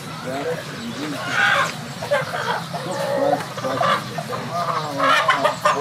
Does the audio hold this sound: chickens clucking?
yes